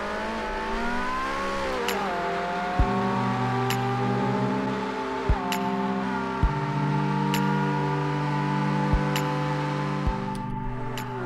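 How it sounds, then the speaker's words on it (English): The hybrid Porsche 918 in the racing game Project Cars 2 drives hard, its engine droning at high revs and climbing steadily, with sharp gear shifts snapping in about every two seconds. "The hybrid Porsche 918 is my fourth pick."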